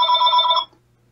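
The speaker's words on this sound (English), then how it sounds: "And there's the phone" A single electronic telephone ring sounds close and clear, a warbling two-tone burst lasting about half a second before cutting off to near silence.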